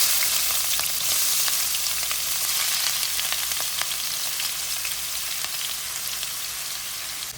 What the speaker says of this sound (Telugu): ఇప్పుడు నేను ఉల్లిపాయ ముక్కలు వేస్తున్నా